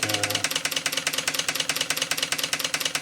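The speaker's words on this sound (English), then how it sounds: "I like to run this engine in a little bit on air before I continue the steaming." A Markie GEM model steam road roller engine ticks over on compressed air with a quick, even chuffing beat, a close and steady mechanical rhythm with no voices over it.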